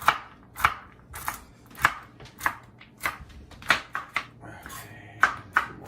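A knife coarsely chops walnuts on a board for a chocolate spice cake, giving about ten crisp, close, irregular thuds with brief rattles between strikes.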